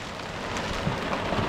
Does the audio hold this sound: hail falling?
yes